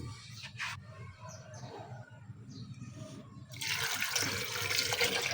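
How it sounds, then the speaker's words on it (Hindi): Water pours into a grinder jug for a juice recipe, a bright splashing stream that starts partway through and keeps running steadily after a quieter stretch of faint background noise and soft handling sounds. "पानी ऐड करेंगे।"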